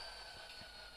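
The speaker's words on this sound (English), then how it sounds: "Okay, now stop the train." A train in the TrainWorks 2 video game brakes to a stop, giving a brief, faint hissing rumble with steady tonal whine and no talk.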